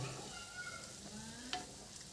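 Gulab jamun fry gently in oil over a very low flame, giving a soft, steady, quiet sizzle with faint bubbling and a single small pop, heard close with no talking.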